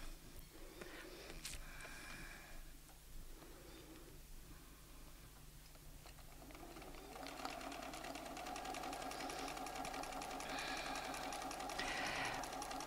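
A domestic sewing machine quilting runs with a quiet, steady mechanical whir that grows busier and slightly louder in the second half, with faint bird calls and cooing in the background.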